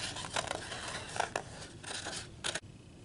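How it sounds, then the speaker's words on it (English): Scissors snipping through paper in short, crisp bursts, several close cuts with brief pauses between them, near and fairly quiet. "I like to turn my paper when I cut and keep the scissors straight."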